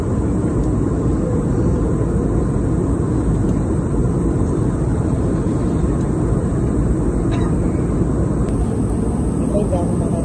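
Inside an airplane in flight, the cabin fills with a constant, dense roar of engine and air noise that stays steady throughout, with faint voices beneath it.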